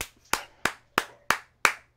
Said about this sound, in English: Got to clap for that one.